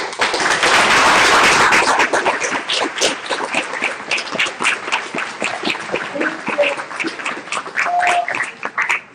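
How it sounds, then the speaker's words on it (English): A conference audience applauds an expert panel, a loud, full burst of clapping that gradually breaks into scattered, individual claps as it fades. "Let's give them one last round of applause, please."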